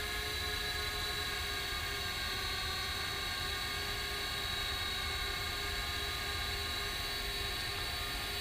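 FLITT wifi FPV selfie drone in flight, a constant high-pitched propeller whine with steady buzzing tones, close and unchanging, no talking.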